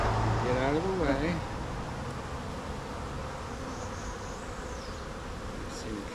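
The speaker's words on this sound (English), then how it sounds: "When the bees feel you coming, get out of the way." Honeybees buzz in a dense, steady drone around an opened hive, with individual bees passing close and a soft rustle of handling underneath.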